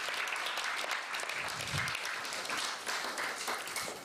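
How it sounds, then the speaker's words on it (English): Temple audience applauding the cleaning team, a steady, fairly distant wash of clapping that carries evenly from start to finish. "So let's give them a big round of applause"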